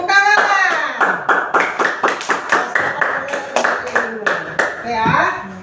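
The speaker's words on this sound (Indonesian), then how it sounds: "Oke, tepuk tangan." A classroom of children claps together in a quick, rhythmic pattern of sharp beats with brief pauses, loud and close, with children's voices mixed in.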